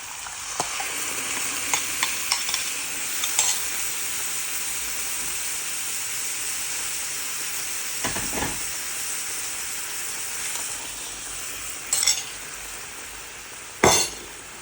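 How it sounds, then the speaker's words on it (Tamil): Steady sizzle and wet stirring as coconut milk is mixed into a Jaffna-style chicken curry in a pan, with a few clinks of the spoon against the pot, continuous and close, no talk. "தேங்காய் பாலை ஃபுல்லாக அப்படியே அதுக்குள்ள மிக்ஸ் பண்ணுவேன்"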